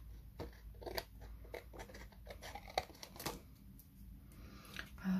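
Paper trimmer or scissors cutting a card panel for a handmade greeting card, with a run of short, crisp snips and rustles, close and fairly quiet, no voices.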